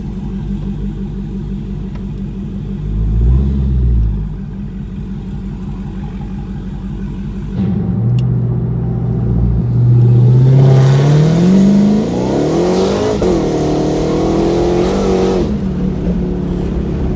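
A Dodge Hellcat, Charger or Challenger, idles with a deep throbbing rumble, swells briefly, then revs up louder with rising engine pitch and a roaring pass of acceleration before settling, close and loud throughout.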